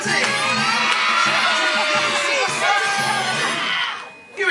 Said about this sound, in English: You were shouting really loud